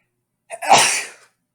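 A single loud sneeze, sharp onset with a breathy burst that trails off quickly, heard alone and close.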